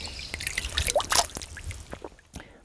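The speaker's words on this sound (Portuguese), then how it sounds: "A água que brota aqui é cristalina e dá para beber sem problema algum." Spring water trickling and dripping at the source of the Tietê river in São Paulo state, close and fairly loud, with irregular splashes and drips over a soft watery background and no talking.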